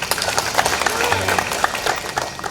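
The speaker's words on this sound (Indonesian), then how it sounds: "Boleh tepuk tangan Bapak Ibu." Audience applause breaks out at a formal Indonesian government gathering, a dense wash of clapping from a crowd that carries steadily for a couple of seconds, with some voices mixed in.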